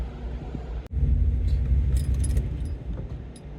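A modified HSV Grange runs on a dyno during tuning, its engine a loud, steady low rumble throughout after a sharp transient near the start, with faint metallic jingling above.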